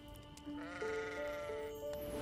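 Sheep bleating in a field, a couple of drawn-out wavering calls that overlap one another against a low background, fairly faint and with no voices.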